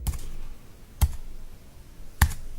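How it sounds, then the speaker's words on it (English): Three sharp keyboard clacks spaced about a second apart, slow and deliberate, close up with quiet in between. "Slow typing."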